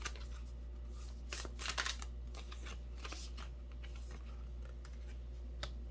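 Tarot cards being shuffled by hand, close and quiet, with soft irregular riffling and slapping bursts over a steady low hum, no voices.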